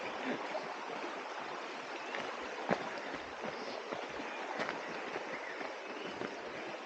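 Water pours steadily at the Aare falls, a continuous broadband rush with no pauses, at an even, moderate level throughout.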